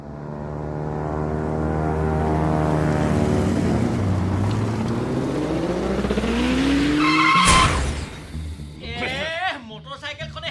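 Motorcycle slipping and skidding while turning toward a house in a radio drama, a long rising engine and tire whine that peaks in a sharp screech, then fades into scattered clatter and voices.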